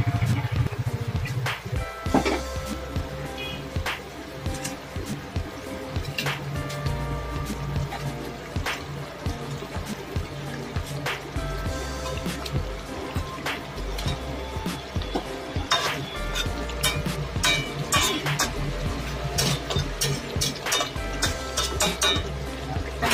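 Pieces of fish go into a hot pan for Bengali doi maach, with clattering utensil and pan clinks, stirring and a steady sizzle running continuously at close range.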